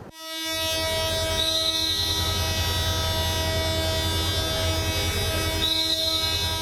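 A train at a crowded railway station in Bangladesh, packed with passengers bound for North Bengal: a loud, constant engine drone with a tonal hum, and two high whining bursts rising over it.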